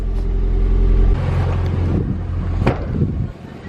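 A Honda EF hatchback with a swapped B17A1 engine idles on a stock exhaust with a slight exhaust leak, a steady low rumble heard close with wind buffeting the microphone and no talk over it.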